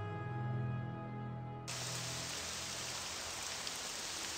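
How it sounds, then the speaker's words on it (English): Heavy rain in the video game Morrowind comes in abruptly as a dense, steady hiss after a low droning tone and then continues evenly. "Oh, it's raining hard."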